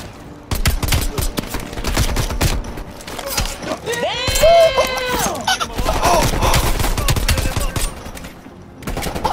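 Rapid gunfire in the video game Call of Duty Cold War rattles in dense, loud bursts throughout, with mechanical clanks and a rising whine in the middle, while a player talks over the shooting.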